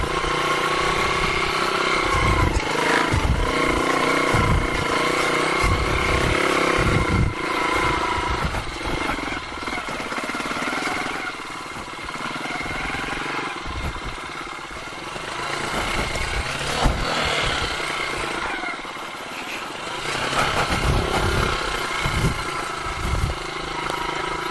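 A Rusi KR 125 motorcycle engine works hard while riding off-road on a dirt track, with a steady close drone and rising and falling revs throughout, with no voices.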